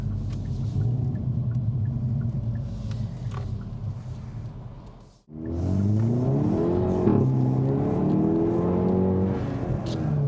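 A 2021 Hyundai i30N automatic rumbles under hard acceleration from inside the cabin, engine pitch climbing, dropping briefly at a gear change, then climbing again through the next gear.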